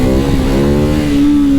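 A Ducati 698 Mono single-cylinder motorcycle engine revs steadily and loud, a held drone with a slight rise in pitch near the end, alone without talk.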